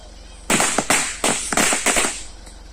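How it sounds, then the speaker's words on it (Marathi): Firecrackers set off during a Gauri Ganpati festival celebration crackle in a rapid string of loud, close bursts lasting about two seconds, then cut off and leave a quiet background. "फटाके लावतोच रे."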